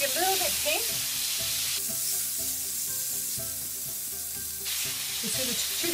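Prawns of two kinds sizzle steadily in a hot pan as they are turned for a salmon and seafood Florentine sauce, a continuous close frying hiss with soft background music running underneath.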